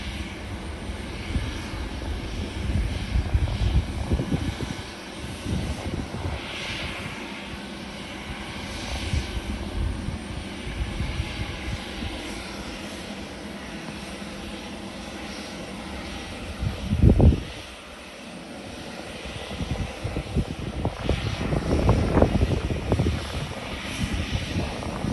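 A Condor airliner idles at a gate at Ponta Delgada Airport in the Azores while awaiting pushback, its engines giving a steady mid-distance hum. A few louder rumbling swells break in, one sharp near the end.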